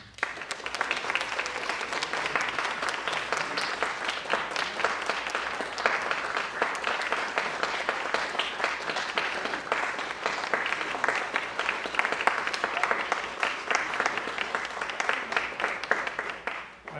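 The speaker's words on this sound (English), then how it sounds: "So let's welcome David Harvey." A crowd applauds warmly and steadily, dense clapping filling the room without a break for the full length.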